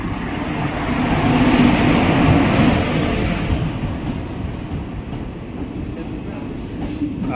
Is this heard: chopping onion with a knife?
no